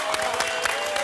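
A studio audience on an Algerian TV entertainment show breaks into dense, steady applause, loud and close, filling the whole brief moment without pause.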